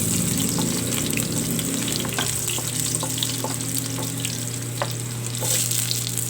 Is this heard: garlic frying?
yes